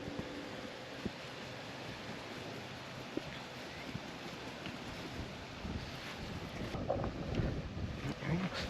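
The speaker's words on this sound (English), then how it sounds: "Kind of windy today," Wind gusts across an outdoor vegetable garden, a steady breathy rush with buffeting on the microphone that grows stronger toward the end, joined by a few faint knocks.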